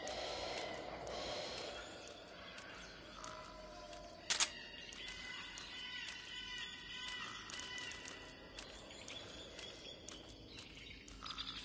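A sleeping soldier snores in the jungle of Metal Gear Solid 3 Snake Eater, with soft snorting breaths over a constant ambience of insects and birds, plus one sharp click midway.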